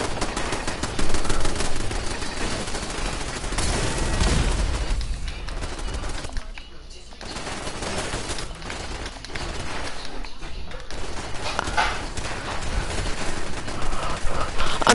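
Automated base turrets in a Labyrinth-modded PS4 game fire sustained, rapid machine-gun bursts that run almost nonstop, loud and dense, with brief lulls before the firing picks up again.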